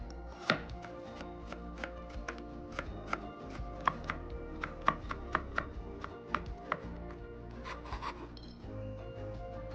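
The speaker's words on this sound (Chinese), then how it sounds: "再改刀切成丝。" A knife chops a carrot into thin strips on a cutting board, with quick, fairly even taps over a steady background of music, nearby and moderately loud.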